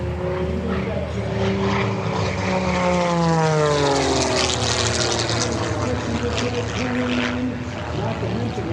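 A propeller aerobatic airplane flies a hammerhead stall at an airshow, its loud, steady engine drone sweeping in pitch as it climbs, stalls and turns over, with a broad roar throughout.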